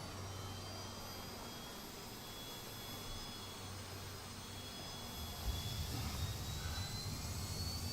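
An ATR72-600 turboprop airliner's number 2 engine starts up in a steady, loud broadband whine and roar with thin rising tones. The sound grows slightly heavier and rumbles more toward the end, with no talking.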